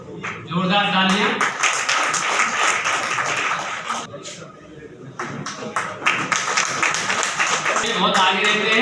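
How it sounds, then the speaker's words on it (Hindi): A crowd claps loudly and steadily through a lawyers' day honour ceremony for advocates at a youth hostel in Agra, the applause dense and continuous with voices mixed in, easing briefly midway before swelling again. "जोरदार तालियां।"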